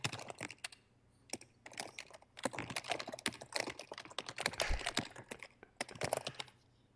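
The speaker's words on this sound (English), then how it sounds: "just the typing" Rapid clicking of a computer keyboard being typed on, in quick bursts with brief pauses, close and fairly quiet.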